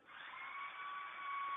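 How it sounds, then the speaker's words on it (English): A power drill whines in a dramatized recreation of a UFO encounter, a steady, thin, muffled tone that swells slightly and holds for under two seconds. "I hear the drill."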